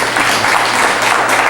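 Audience applause fills a planning commission meeting room, a steady dense clapping from many people throughout, fairly loud and continuous with no talk over it.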